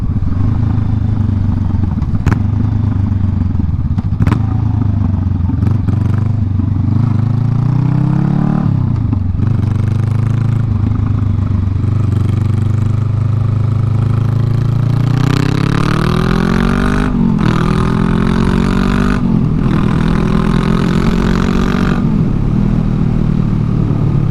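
A loud Honda Rebel 500 motorcycle engine with its muffler removed revs and drones continuously, rising in pitch several times with a harsh, unmuffled rasp and occasional sharp pops.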